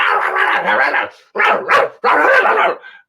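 A human voice mimics a dog's barking in three loud, rough bursts close to the mic, the middle one split into two quick yaps.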